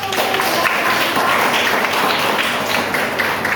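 An audience applauds after a presentation at a university teaching session, with steady, dense clapping that keeps up at an even level the whole time.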